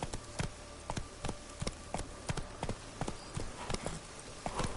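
Roach the horse trotting in The Witcher 3 video game, an even rhythmic clip-clop of hooves, fairly close and quiet, with no talking over it.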